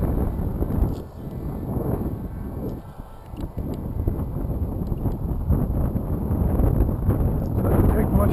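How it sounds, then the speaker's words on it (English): Strong gusty wind buffets the microphone outdoors during a radio-controlled plane flight, a loud, rumbling roar that surges and dips throughout. "Oof, very windy."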